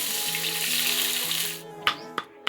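Onion, red chilli and bay leaf sizzle in hot oil in a kadhai, a broad, steady hiss that fades out and gives way to a few sharp clicks and knocks.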